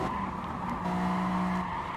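Race car in the Gran Turismo Sport video game at Brands Hatch, a steady loud engine drone with tire squeal layered on top, continuous throughout with no talking.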